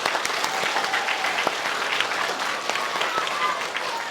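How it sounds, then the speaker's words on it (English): Steady applause fills an elementary school award ceremony honoring a teacher, a dense crowd clapping at even loudness with faint voices mixed in. "one more round of applause"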